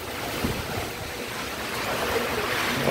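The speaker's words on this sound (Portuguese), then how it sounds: "Muita ventania aqui, ó." Strong wind roars steadily across the microphone in a continuous broadband rush during a rainstorm in the sertão of Paraíba, Brazil, loud and close, with no voices.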